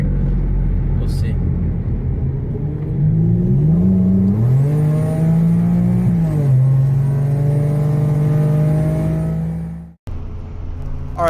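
A motorcycle engine revs loudly as it accelerates on a drag strip, its pitch climbing through several gear changes before it drops out abruptly and then rises again.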